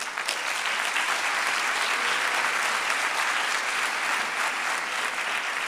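Sustained, dense applause from an audience at a memorial public lecture, steady and loud for several seconds without a break.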